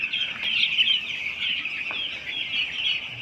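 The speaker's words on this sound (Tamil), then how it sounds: "இது பாருங்கள் இந்த கோழி இது ஆகாத கோழி ஃப்ரெண்ட்ஸ்" Chickens on a large poultry farm cluck and chatter continuously in a dense, fairly loud flock chorus with no speech.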